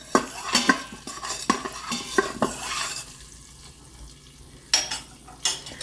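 A spoon stirs finely chopped paneer bhurji in an Instant Pot, sharp metallic scrapes and clinks in an irregular rhythm over a soft sizzle, close by, with a quieter pause before the stirring resumes.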